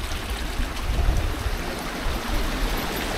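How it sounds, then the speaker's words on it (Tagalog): Strong forest water rushes in a continuous, loud, broadband roar of a fast current, with turbulent churning and no voices. "Ang lakas na ng agos ng tubig guys."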